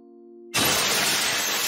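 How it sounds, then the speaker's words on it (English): Windows shatter from an explosion shockwave in Honkai Impact 3rd. A low tonal hum gives way to a sudden loud crash of breaking glass that stays dense and bright to the end. "A huge boom came with strong shockwaves, shattering every window from the buildings nearby."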